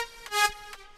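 Dry synth leads on a lead bus, heard with no effects, sustain one bright buzzy tone with a couple of short swells, close and alone for about a second, from a dance track.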